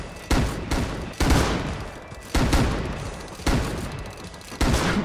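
Jackhammer in the survival game Rust, pounding in sustained loud bursts of about a second each, five or so runs separated by short pauses, close and harsh, with no talk.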